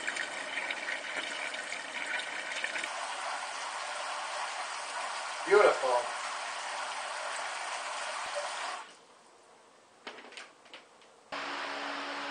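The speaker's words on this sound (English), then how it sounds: "I'll add some water and we'll do a quick experiment." Water pours steadily into a DIY evaporative air cooler, a continuous splashing fill with a brief clunk midway, then it stops and gives way to quieter handling noises.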